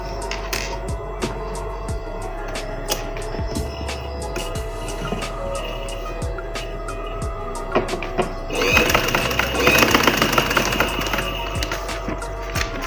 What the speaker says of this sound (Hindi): उस पर आप इन लाइंस के ऊपर सिलाई लगाएं